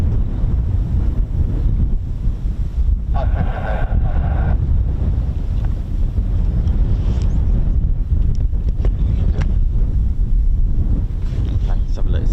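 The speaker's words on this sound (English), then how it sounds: "Wind has suddenly got really bad." Strong wind buffets the microphone at an RAF airfield, a constant loud rumbling roar with gusts throughout.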